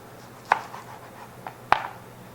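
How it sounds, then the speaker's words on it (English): Knife cutting through oranges for juice on a board, a few sharp distinct cuts with quieter slicing between, close and fairly quiet. "So I'll start slicing my oranges."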